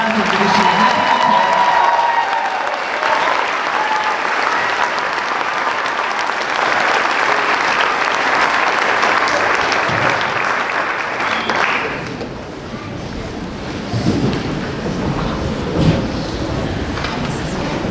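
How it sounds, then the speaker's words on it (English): Sustained audience applause at a high school choir concert honouring a retiring supporter, loud clapping and crowd noise that fades partway through into quieter murmuring and scattered claps. "Would you please join us in giving him a huge round of applause"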